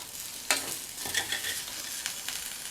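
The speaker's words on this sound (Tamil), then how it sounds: "தூவிட்டு நல்லா ஒரு தடவை பரட்டி விட்டுடலாம்" A spatula stirs raw banana pepper cumin fry in a pan, giving a soft sizzle with a sharp scrape or clink near the start and a few lighter scrapes after, quiet and close without voices.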